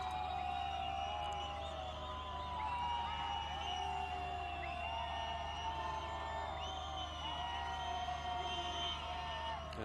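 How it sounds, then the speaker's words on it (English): Distant, steady crowd noise from Portuguese fans booing in a FIFA football video game during a Brazil versus Portugal penalty shootout. A low, continuous roar with faint whistles and cheers runs at a quiet level throughout. "the pantomime booing from the Portuguese fans"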